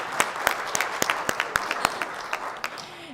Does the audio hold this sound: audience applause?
yes